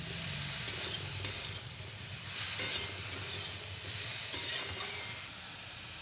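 Spice paste and vegetables sizzle gently in a pan of fish oil while being stirred, a steady soft frying hiss with occasional scrape and clink accents, close by and without any speech.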